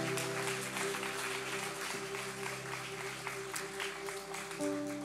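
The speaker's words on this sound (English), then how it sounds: "can we give them a round of applause?" Church congregation applauding a guest speaker during worship, a steady broad wash of clapping with a sustained musical tone underneath throughout.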